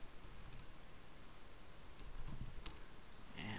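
Keystrokes tapped on a computer keyboard while entering an install command on Linux Mint, a quiet run of light clicks over steady background hiss, with no voice.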